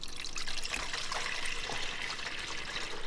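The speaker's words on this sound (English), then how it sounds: "pour water in the bottom here to that max fill line" Water poured into the bottom reservoir of a Tramontina ice maker, a steady trickling splash that carries on for a few seconds at close range with no talking.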